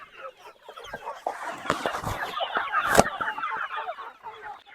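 Native country chickens cluck busily as they peck at a feed mash, a dense close chorus of overlapping clucks and soft pecking taps that carries on without pause.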